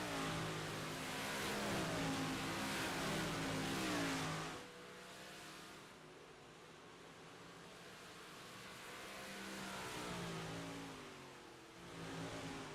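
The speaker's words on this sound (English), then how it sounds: "Trying to track down the 56 car, Randy Shreves." Dirt track race cars roar around the oval at Port Royal, engines droning loud and steady before easing to a more distant hum, then swelling again as cars pass.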